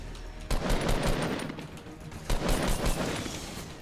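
Rapid bursts of gunfire in Fortnite, close and loud, with two sharp volleys separated by a short gap and continuous rattling shots throughout.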